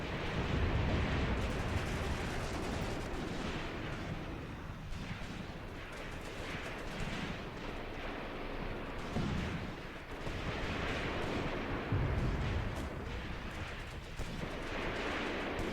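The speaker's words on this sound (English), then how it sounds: "Now the 102mm mortars are supposed to start shooting at this crossing here now." 102mm mortars in Graviteam Tactics shelling a river crossing, a continuous rumbling barrage with heavier low booms bursting through now and then, dense and steady throughout, no voices.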